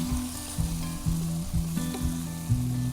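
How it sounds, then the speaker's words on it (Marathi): Tomatoes and chillies sauté in a hot pan, a steady close sizzle with some stirring scrapes at a regular rhythm and a faint tonal hum running underneath. No one speaks. "मिरच्या टाकून घेऊ, टोमॅटो घालून देऊ. टोमॅटो व्यवस्थित परतून घेऊ"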